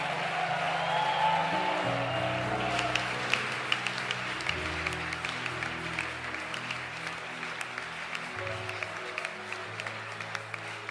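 A church congregation applauds in a sustained wash of clapping under sustained organ or keyboard chords, steady and moderately loud for the whole stretch.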